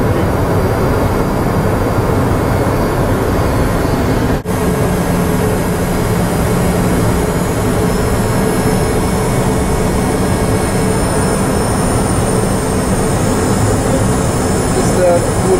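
Steady, loud roar of a Cessna Citation 501 jet on landing approach at Shaibah, Saudi Arabia, heard from inside the cockpit as a continuous broadband engine and airflow rush without pauses.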